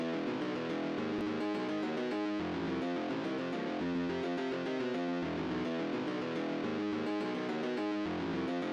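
Guitar part from a remix, a distorted, effects-laden riff playing steady arpeggiated notes in an even rhythm, alone with no voices over it.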